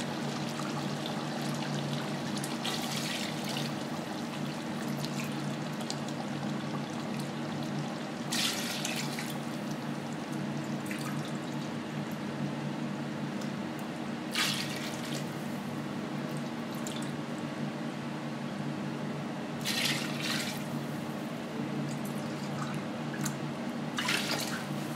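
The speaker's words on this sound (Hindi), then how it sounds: "4 कप चावल थे, और इसमें अब मजीद 5 कप पानी डालेंगे" Water poured into a pot of mutton and stock for mutton tehari, a steady close pouring and splashing stream with a few brighter bursts, no talk over it.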